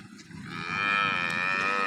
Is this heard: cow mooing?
yes